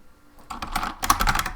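Quick clattering keystrokes on a computer keyboard as a shell command is typed, a short burst of close, crisp clicks.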